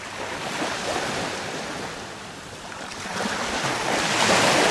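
Ocean waves wash steadily onto a beach, a loud, continuous surf roar that swells toward the end, with some wind buffeting the microphone.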